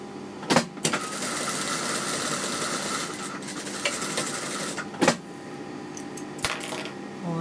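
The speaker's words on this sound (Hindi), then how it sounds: "तो इसको भी हम गोलाई पर सिलाई लगा लेते हैं।" A sewing machine stitches trouser fabric along a curve with a steady, close mechanical whirr, briefly interrupted by a few sharp clicks and knocks as the work is adjusted.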